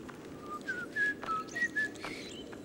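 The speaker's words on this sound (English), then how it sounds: "So if anyone wants to whistle Sweet Georgia Brown" An audience member at a speedrun event whistles Sweet Georgia Brown, a short run of clear melodic notes with quick slides, moderately close over low room murmur.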